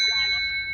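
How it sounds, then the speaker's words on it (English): A bicycle-style bell fitted to an electric-converted VW bus gives a single bright ding with a sustained, ringing tone that slowly fades, heard up close in a short burst. "That's the bell."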